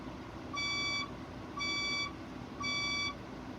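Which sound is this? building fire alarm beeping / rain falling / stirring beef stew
building fire alarm beeping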